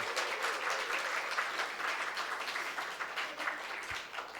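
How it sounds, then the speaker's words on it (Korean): A church congregation applauds the youth with a continuous, moderately loud patter of many hands that holds steady throughout. "우리 청년들 위해서 우리 박수를 한번 다시 한번 격려하겠습니다"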